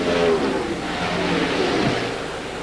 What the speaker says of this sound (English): David Green coming back on the racetrack.